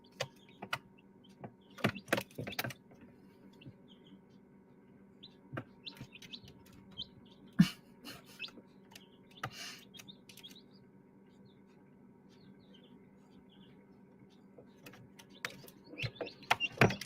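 Newly hatched chicks chirping inside an incubator: scattered short, high peeps in small clusters over a steady mechanical hum, with quiet gaps between bursts and a livelier run of chirps at the end.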